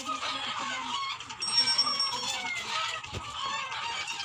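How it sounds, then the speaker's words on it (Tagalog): Many chickens cluck and chatter together in a constant, busy background din, with occasional higher squawks poking through, under a video game being played. "ang ingay, oh. Papansin yung mga manok."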